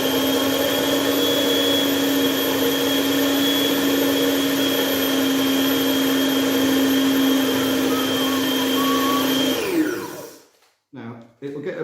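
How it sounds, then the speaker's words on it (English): A kitchen blender whizzes a batch of food with a steady, loud motor whine for about ten seconds, then stops abruptly, leaving a few soft knocks and a brief voice afterward. "So now what we need to do is give it a whiz"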